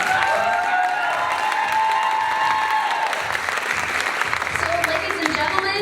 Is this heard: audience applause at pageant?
yes